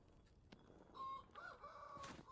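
Chickens in the survival game Vintage Story clucking and squawking in a few short bursts, moderately close but fairly quiet, with no talking.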